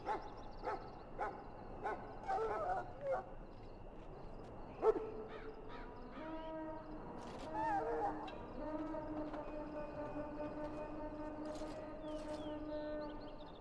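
A dog in Dragon Age Origins, injured and in need of care, gives scattered short barks and yips, then longer whining, whimpering tones over quiet game ambience.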